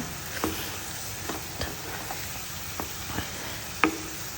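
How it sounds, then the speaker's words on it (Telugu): Onion paste, curry leaves and green chillies fry in a pan for fish curry, a soft sizzle broken by several sharp spatula scrapes and taps, one louder clack near the end, with no speech. "గ్రీన్ చిల్లీస్ కూడా యాడ్ చేస్తున్నానండి. దీన్ని బాగా ఫ్రై చేయండి."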